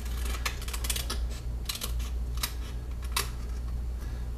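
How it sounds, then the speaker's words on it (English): Scissors snipping in a quiet room, with sharp, irregular metallic clicks and cuts spaced through the clip, fairly close and soft, with no talking. "somebody has a problem with scissors making noises"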